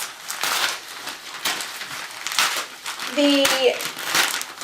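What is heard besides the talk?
book being unwrapped, wrapping crinkling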